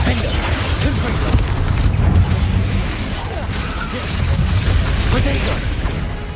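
A Confringo fire spell blasts in the Hogwarts Legacy video game, a series of heavy booming impacts and crashes under dense combat noise, with a voice talking over the action.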